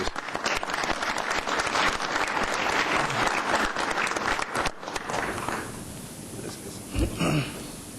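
A room of people at a city council meeting applauds honorees, brisk dense clapping for about five seconds before thinning into scattered claps and quiet room noise.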